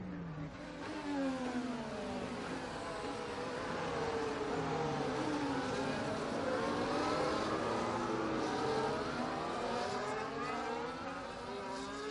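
Race cars in the F1 24 video game running behind a safety car, engines droning at high revs with rising and falling pitch sweeps, steady and moderately loud.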